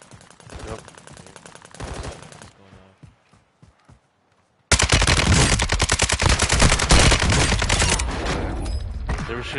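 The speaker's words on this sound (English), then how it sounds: "You see the gunshots?" Gunfire in the video game Warzone: bursts of rapid automatic shots, then a gap with sparse sounds before a loud, sustained barrage of dense machine-gun fire fills the rest.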